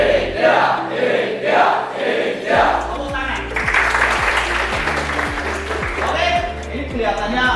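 Audience applause in an Indonesian classroom or seminar setting on negotiation texts, a dense wash of clapping over a low rhythmic music track, with a voice talking over it at the start.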